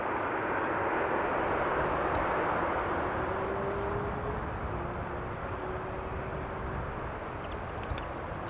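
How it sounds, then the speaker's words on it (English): A United Airlines Boeing 777-200 arriving at Amsterdam Schiphol produces a steady, broad engine roar at moderate distance, holding evenly throughout with a faint whine rising then fading. "Meanwhile, another 777 is coming in. This is a 777-200 United Airlines Flight 968, arriving from San Francisco."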